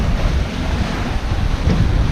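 Rough Western Caribbean seas of three to eight feet pound around a sailboat, with loud churning surf and heavy wind buffeting the microphone in a constant roar, no voices.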